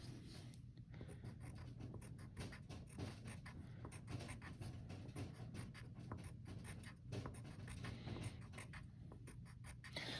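A subtraction model being drawn by hand for a math lesson on subtracting with regrouping, faint continuous scratchy pen strokes with short rhythmic ticks, quiet and close with no talking.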